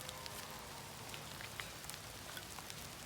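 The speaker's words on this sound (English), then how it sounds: "The rain's picking up more now." Rain falling at a campsite while a campfire is being built, a dense steady patter of drops with scattered louder ticks, fairly close and with no talking.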